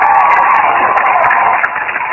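An audience claps at a 2008 Bill Clinton rally in Wilkesboro, North Carolina, a steady wash of loud applause from a crowd, heard through a thin, narrow recording that stays even throughout.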